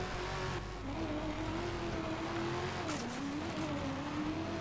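A car in Just Cause 2 drives and revs continuously, its engine whining and shifting pitch as it slides on slippery handling, with a steady loud drone and occasional tire noise.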